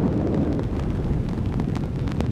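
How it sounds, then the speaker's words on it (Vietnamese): Heavy rain and gusting wind pound a Land Rover Defender during off-road driving on rocky hills and sand dunes, a dense continuous roar with rain patter, steady and loud throughout without speech. "Ôi mưa to rồi, mưa to rồi."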